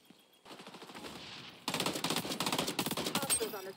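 M16 rifle fire in the XDefiant shooter game, quiet rapid shots at first, then a loud, steady stream of close bursts with a fast, even rhythm that lasts to the end.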